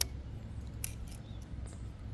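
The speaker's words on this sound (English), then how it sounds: "Then you can just cut the zip ties." Scissors snip zip ties a couple of times during installation of an e-bike mechanical pedal kit, short crisp cuts heard close against a quiet room.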